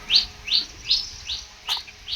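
Sparrows chirp in a short series of about six bright, evenly spaced tweets, close and clear against a quiet background.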